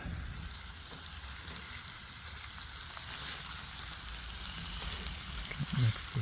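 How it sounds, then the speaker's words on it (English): Peppers and onions frying over the heat outdoors, a soft continuous sizzle and crackle that stays faint and even, with a few louder pops toward the end. "got my peppers, onions cut up. Everything's put"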